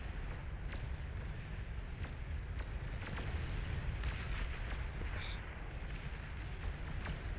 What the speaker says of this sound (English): Keep your Titans back, Tom, so that they don't take too much damage from the explosion